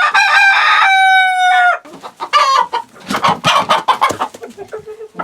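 A rooster crows loudly up close, followed by a flurry of hens clucking and squawking in quick, uneven bursts.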